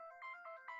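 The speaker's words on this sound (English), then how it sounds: "Let me just shut my phone off, Farheen." A mobile phone ringtone plays faintly in a few short, bright electronic bursts, a quick repeating melodic pattern with no voices over it.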